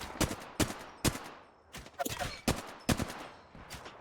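Rapid gunfire rings out in the Apex Legends video game, several sharp bursts of shots in quick succession with a few brief gaps, loud and close.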